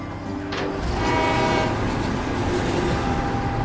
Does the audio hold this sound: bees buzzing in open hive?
no